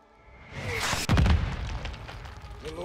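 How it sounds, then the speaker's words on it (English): Mortars in a Call of Duty MWII battle: rumbling launch noise builds, then one heavy boom lands around the middle, followed by fading debris and distant crackle. "We're launching mortars."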